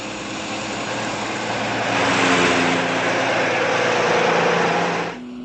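A truck engine passes on a road in a 1968 television drama, a steady broadband rumble swelling louder for a few seconds before cutting off abruptly, heard alone without voices.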